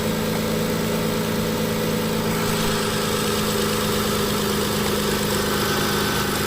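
A 2004 Mitsubishi Eclipse 3.0L engine that has had an idle surge and stalling problem idles close by, a dense continuous drone with a slight shift in tone partway through and no voices over it.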